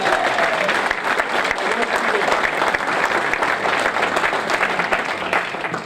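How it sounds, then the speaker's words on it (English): A crowd at a Citizen of the Year award ceremony breaks into sustained applause, steady and fairly loud clapping across the room with faint voices mixed underneath. "Give him a big round of applause."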